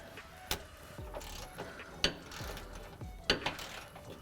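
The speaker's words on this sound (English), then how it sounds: "Pull the bump stop back to get the socket up in there, and then loosen the bolt that secures it." Bolt on a rear bump stop of a 2010-2020 Ford F-150 Raptor being loosened with a 13mm socket on a wobble extension, giving a few sharp ratchet clicks and metallic taps spaced over a few seconds, close up with no talk.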